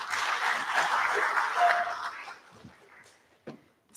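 Audience applause at an agricultural industry presentation, a dense burst of clapping that holds steady for about two seconds and then fades out to a few scattered claps.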